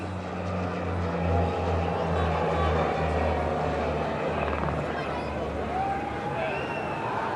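A police helicopter squadron flies an aerial salute over the Champ de Mars, its rotor drone a steady pulsing roar heard at a distance beneath a loudspeaker commentator's voice.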